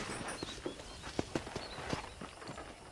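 Horse hooves clip-clopping in the Western video game Red Dead Redemption, a quiet, uneven walking rhythm of soft thuds set under a steady background hiss.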